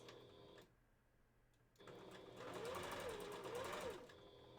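A sewing machine stitches backwards through minky fabric, its motor whirring in a steady rapid run after a brief pause, close and fairly quiet.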